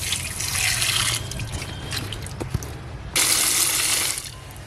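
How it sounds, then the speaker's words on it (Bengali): Hilsa fish pieces rinsed under running tap water, with continuous splashing, small knocks and drips, and a louder surge of flow toward the end. "কাটার পর ফের মাছটাকে আমি আর একবার ধুয়ে নেব"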